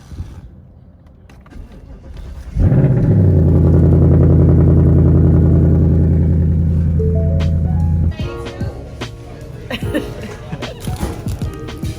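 A race car at the Rolex 24 at Daytona cranks and fires up in quiet mode, a sudden loud droning idle that holds several seconds, then drops as clatter and voices follow.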